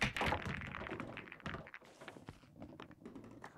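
A pool break shot emote in Fortnite: a cluster of close, hard clacks and taps like billiard balls striking, loudest at the start, then scattered lighter knocks that fade out.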